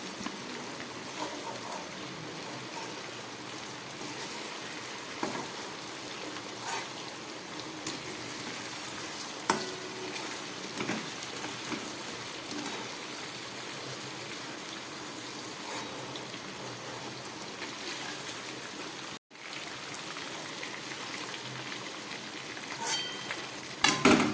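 Spiced chicken pieces frying in oil, giving a steady, dense crackling sizzle like rain that runs on evenly and fairly quietly, with one brief dropout near the end.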